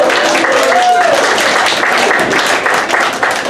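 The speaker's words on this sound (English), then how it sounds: "Let's have a round of applause for the homeless couple." Audience applause in a comedy club, a steady wash of clapping with a voice talking over it near the start, fading slightly toward the end.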